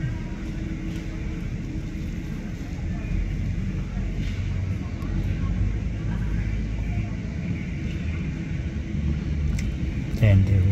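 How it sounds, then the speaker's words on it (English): A Qantas Airbus A380 is pushed back at LAX, heard as a steady, loud low rumble of ground equipment and airport noise that holds throughout, with a brief sharper burst near the end. "That's how they push back this massive plane."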